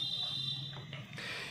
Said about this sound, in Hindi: टाइम पूरा होने से पहले इसके अंदर बजर बजेगा